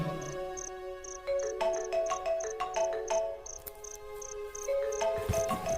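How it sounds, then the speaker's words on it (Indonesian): A repeating electronic ringtone melody plays steadily with short beeping tones, fairly faint and without talking. "handphoneku berdering."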